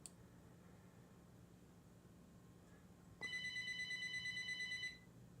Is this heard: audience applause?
no